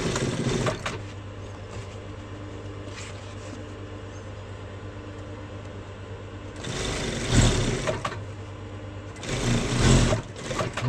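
A sewing machine stitches trousers, a low steady hum running throughout with two louder, busier bursts of stitching near the end, with no talking.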